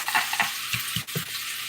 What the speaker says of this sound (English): Y'all know if you hear a little sizzle,